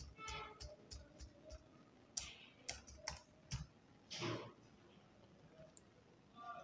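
Keys tap on a computer keyboard as an account password is entered, a sparse, irregular run of close, quiet clicks with short pauses between bursts.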